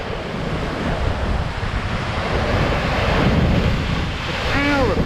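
Sea waves surging onto a rocky shore with boulders shifting, a continuous loud roar of surf and wind buffeting close to the microphone, no voices.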